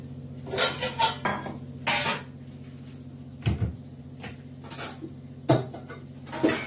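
Pointed gourd is lifted out of a cooking pan, with several close metallic scrapes and clanks of utensil against pan, some sharp and some softer, separated by short pauses.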